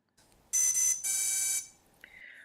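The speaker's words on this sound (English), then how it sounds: "Now hit stop to start calibrating the ESC and the ESCs will beep again." Electronic speed controllers on a drone with a CC3D flight controller beep during calibration: two loud, shrill, sustained tones close together, then a fainter, shorter chirp.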